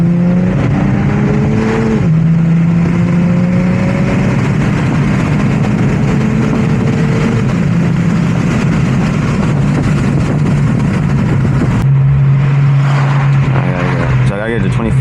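Tuned 430whp 2019 Infiniti Q60 accelerating hard toward redline in third gear, a loud, rising engine drone heard from inside the car that climbs steadily before a shift, with people talking throughout.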